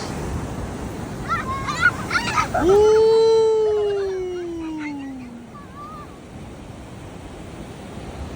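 Strong surf rolls in at My Khe Beach in Da Nang, a steady wash of waves underneath while a person lets out a long, loud sliding vocal cry partway through.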